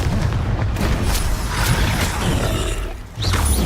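Confringo spell explosion in the video game Hogwarts Legacy, a dense, loud rumbling boom that swells and sustains, dips briefly, then surges again, with no talk.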